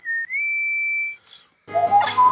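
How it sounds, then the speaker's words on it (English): Protoman's whistle entrance in the video game Mega Man 10: a sustained, pure electronic whistle tone held for about a second, sliding slightly upward, then fading before a burst of game music. "I like how he still has the damn whistle entrance."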